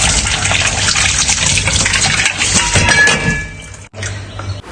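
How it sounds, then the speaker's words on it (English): Water running hard from a tap while plates are washed, a continuous loud gushing splash that cuts out briefly near the end and then resumes. "Just going to wash some plates."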